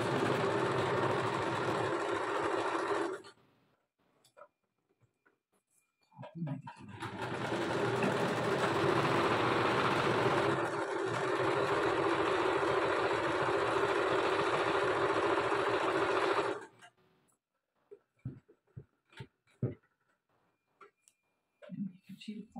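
A sewing machine stitches a garment sleeve in two long, loud, steady whirring runs separated by a brief pause, followed by scattered clicks and soft handling sounds as it stops.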